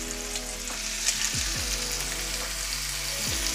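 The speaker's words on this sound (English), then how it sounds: "We're gonna go ahead and get these fillets and throw them on there." Thin golden tilefish fillets fry in a hot pan with a steady, dense sizzle and crackle, with a few low clunks and scrapes of the pan or utensil. No one speaks.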